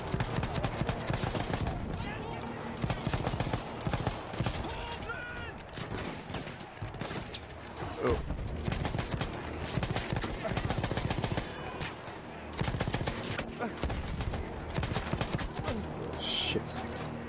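Gunfire in the World War One video game Battlefield 1, with dense, continuous rifle and machine-gun bursts and distant explosions. Someone talks over the fighting.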